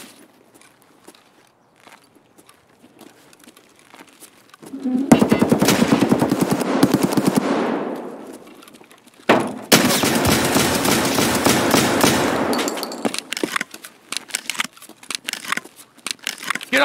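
Benelli M3 shotgun gunfire in the video game Escape From Tarkov, two loud, sustained bursts of rapid shots separated by a brief pause, with quieter footsteps and rustling before and after.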